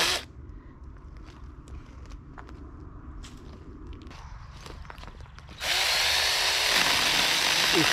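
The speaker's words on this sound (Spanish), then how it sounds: "Dejar que corra la sierra y haga su camino." A handheld mini chainsaw buzzes at a steady idle near the listener, then revs into a louder, harsher roar as it bites into a tree branch and keeps cutting to the end.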